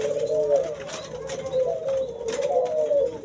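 Turtle doves kept for breeding coo repeatedly in soft, rounded phrases, several birds calling close by with a steady rhythm and no one speaking.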